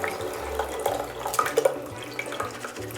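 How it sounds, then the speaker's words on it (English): Tamarind water for a Nyonya fish asam curry is poured through a sieve, giving a close, steady watery trickle and splash with small stirring and dripping sounds, no voices. "What I'm going to do is just run this through a sieve."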